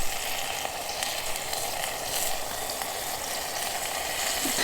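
Beef stew meat fries in a pot at a winter wild camp, giving a steady, close, broadband sizzle that holds level throughout with faint stirring scrapes and no talking.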